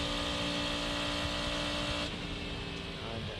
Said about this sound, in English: Sound of the Cadillac motor up on the high banking.